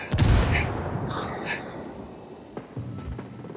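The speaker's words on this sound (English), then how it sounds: "Oh, that's a sniper." Sniper rifle fire in Ghost Recon Wildlands: one heavy, booming shot at the start that rolls off slowly, followed by fainter distant reports.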